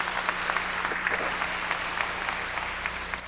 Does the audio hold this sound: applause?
yes